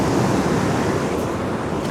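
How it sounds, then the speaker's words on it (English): Ocean waves crash on a French beach in a continuous, loud roar of surf mixed with wind buffeting the microphone, with no break across the short stretch. "with the waves crashing"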